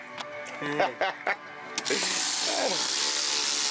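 A ratchet wrench tightens bolts during a lift kit install on a Jeep Grand Cherokee in a Compton shop, giving a few short clicking bursts up close, followed by a steady broadband mechanical noise.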